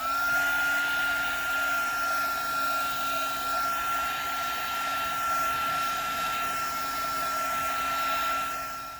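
A hair dryer blows continuously with a steady whirring hum and airy rush, holding an even loudness throughout.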